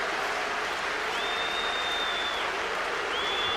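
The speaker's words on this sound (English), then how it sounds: "That's why the Welsh crowd are howling once again." Welsh rugby crowd at a 1999 Wales v South Africa match howling and roaring, a dense, sustained wash of stadium noise with a thin whistle-like tone riding above it.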